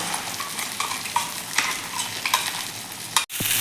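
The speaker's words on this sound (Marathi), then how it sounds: "हे तांदूळ देखील आपण त्या तुपावरती ते एक मिनिटभर साधारणतः परतून घ्यायचे आहे" Rice stirred and fried in ghee over medium heat for a kheer, giving a soft sizzle with repeated scraping stir strokes, close and steady, ending in a sharp clatter.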